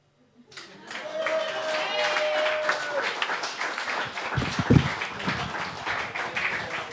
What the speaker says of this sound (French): On applaudit le poète.